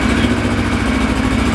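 A Kawasaki Ninja 650R motorcycle engine runs at a steady idle after an oil and filter change, a loud close, even rhythmic thrum with no talk over it.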